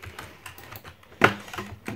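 Keys clack on a cheap 20 euro computer keyboard, a few sparse, uneven taps close by and then two sharper, louder strokes near the end.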